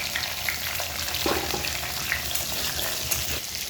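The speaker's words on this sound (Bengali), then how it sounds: "এইবারে আমি এই তেলে আলুটা ভেজে" Potatoes fry in hot oil with a steady, dense sizzle and crackle that holds at an even level throughout, with a few brief stirring scrapes and no talk.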